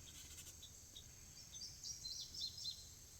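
Small birds give soft, thin chirps outdoors in nature, faint and scattered over a quiet background hiss, with no voices.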